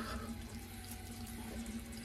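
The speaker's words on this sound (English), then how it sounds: "Oh, I should have had the water going." A bathroom tap runs steadily into a sink while warm water is awaited, a continuous close hissing splash with no breaks.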